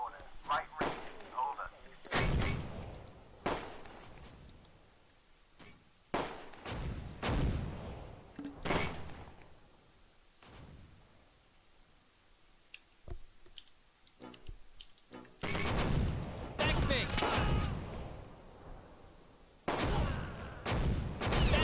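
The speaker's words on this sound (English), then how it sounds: "I'm gonna use all my other mortar fire on the cannon" Mortar and artillery fire from the Close Combat war game: repeated heavy booming blasts, some single and some in rapid clusters, separated by quieter gaps, with someone talking at times.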